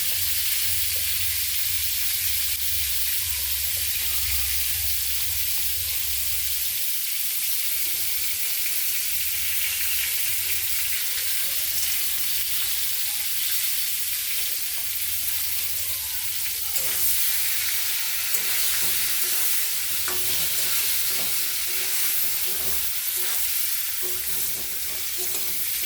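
Pointed gourd frying in hot oil with salt and turmeric, a steady loud sizzle running throughout with occasional scraping stirs, the low rumble dropping away partway through.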